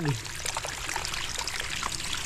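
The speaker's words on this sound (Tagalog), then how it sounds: "Puno na nga. Naawas na. Naawas na ang tubig." Water overflowing a full container and running off in a steady splashing trickle outdoors, close and continuous throughout.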